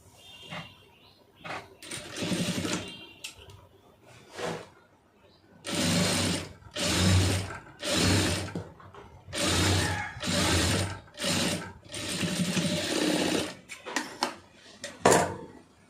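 A sewing machine stitches a blouse side seam in repeated short bursts of rapid mechanical chatter, close and fairly loud, separated by brief pauses while a person talks between and over the runs.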